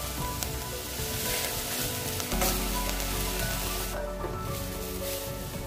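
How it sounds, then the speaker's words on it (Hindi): Steady sizzle of rice and soya chunks frying in a pan with spinach, gently stirred, a close continuous hiss with soft scraping movements and no talk. "हल्के हाथों से ही चावल को चलाएंगे"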